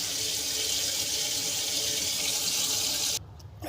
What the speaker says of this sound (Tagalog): Kaya maglagay tayo ng tubig